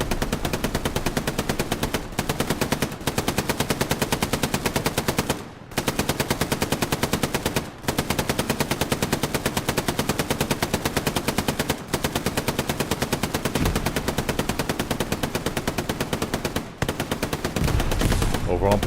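Sustained machine gun suppression fire in a Battle of the Bulge video game match at Foy, loud and dense rapid bursts that run almost without break, with only a few brief gaps.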